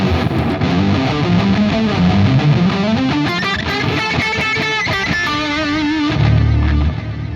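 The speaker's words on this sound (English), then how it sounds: "this is now high gain distortion" Electric guitar through high-gain distortion playing a rock power shuffle: thick, saturated chugging riffs and sustained overdriven notes, loud and continuous, ending with a heavy low chord.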